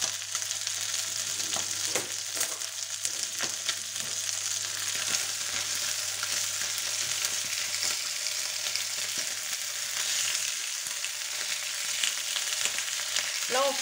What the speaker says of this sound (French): Là, on fait juste revenir un petit peu notre viande.